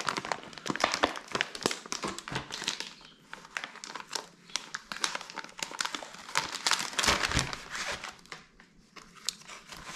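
A paper instruction manual for an X-Ray XB4 RC car kit crinkles and rustles as it is handled, with irregular close crackles and taps.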